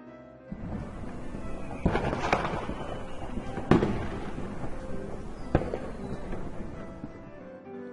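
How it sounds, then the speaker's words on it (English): Fireworks explode on the approach to New Year, with several sharp booming bursts spaced a second or two apart over a continuous crackling, rumbling bed. "Jessie heard the sound of fireworks exploding."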